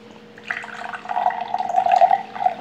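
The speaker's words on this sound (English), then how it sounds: "Let's get the water poured in." Water pours steadily into a container for a dancing popcorn experiment, a rising liquid trickle and splash that builds and continues close by with no talking.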